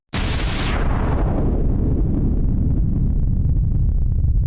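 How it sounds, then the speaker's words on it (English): A big explosion sound effect bursts in suddenly at full loudness, a sharp blast followed by a long, loud crackling and rumbling roar that continues without fading. "Then a big explosion occurred"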